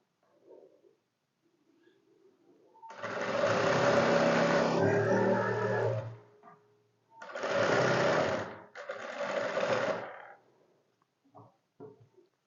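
Sewing machine stitching a simple shirt, running in three loud close bursts of rapid mechanical whirring separated by pauses, with faint small clicks and noises between runs.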